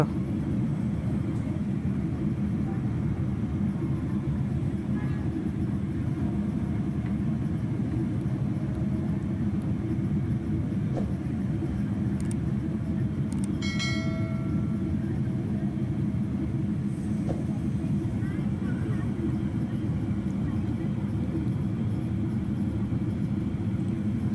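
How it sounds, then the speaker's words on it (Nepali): An airliner on its landing descent during a flight from Kathmandu to Riyadh gives a continuous, even cabin rumble with no break across the whole stretch, with only a few faint clicks on top. "बिस्तारै जमिनतर्फ चाहिँ कम गर्दै जहाज चाहिँ ल्यान्डिङ हुने क्रममा छ"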